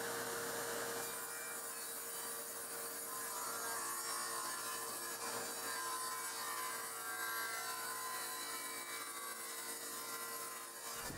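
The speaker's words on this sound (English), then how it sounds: "I'm going to start by trimming down some scrap 2x4s and 2x6s that I had" Scrap 2x4 and 2x6 lumber is being sawed in a workshop, a steady, continuous rasping cut held at even loudness for the whole stretch, with no talking.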